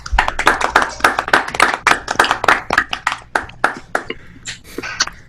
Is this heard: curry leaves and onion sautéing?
no